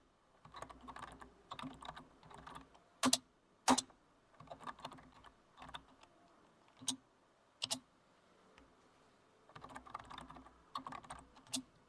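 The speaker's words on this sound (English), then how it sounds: "click and enter to insert the text onto the sticky note" Computer keyboard keys tapped in quick bursts of typing, close and clear, with short pauses and a few sharper clicks between runs.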